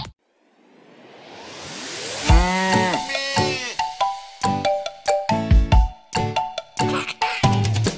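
A cartoon cow gives a long rising moo near the start of a Spanish children's song, followed by bright, bouncy music with chimes and drums, and no talking.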